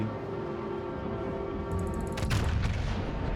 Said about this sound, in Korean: 야마토 포맛 좀 보라고 쐈다 하면 가는 거야